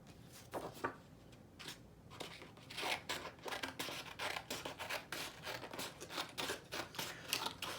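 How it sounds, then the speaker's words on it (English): Scissors snip through paper being trimmed shorter to fit a paper bag, a quick series of close, crisp cuts with short pauses between bursts, no voices. "So you'll trim it. You'll cut it a little shorter."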